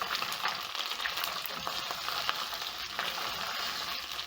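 Beef browning in a pan, giving a steady, close crackling sizzle of frying meat with faint stirring, and no voices.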